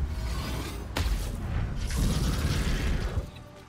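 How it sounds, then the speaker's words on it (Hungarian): A concentrated explosion spell in the video game Baldur's Gate 3 goes off with a sharp shattering crack. A dense, rumbling mechanical whoosh follows and sustains for a few seconds before cutting off, with no talk. "Koncentrált robbanás."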